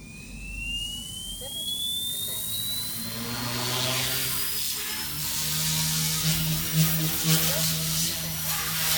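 Goosky S2 Ultra RC helicopter motor spinning up from rest, a rising whine climbing steadily over a low rotor drone, loud and close, holding at a fairly slow rotor speed with no talk over it.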